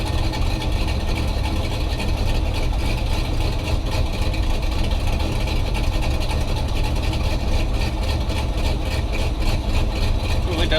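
A car engine idles steadily and loudly with a low, continuous rumble that runs through the whole stretch, running rich on regular fuel rather than E85, with no talk over it.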